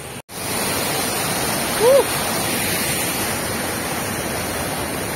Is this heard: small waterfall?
yes